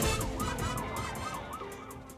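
A wangwang siren on a car in Cebu City wails in a fast rising and falling warble, loud and continuous over road noise, with no talk.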